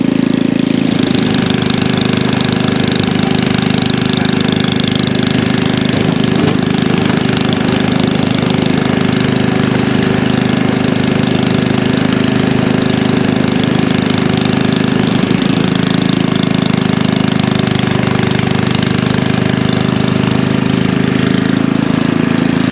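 An Ariens snow blower engine runs steadily throughout while clearing a snowy Minnesota driveway, a loud, continuous mid-pitched drone with no talk over it.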